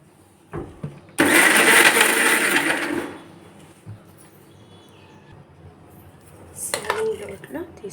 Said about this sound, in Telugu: మూత పెట్టేసి మిక్సీలో